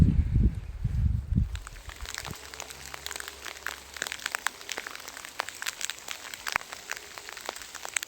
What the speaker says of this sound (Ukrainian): така дощова погода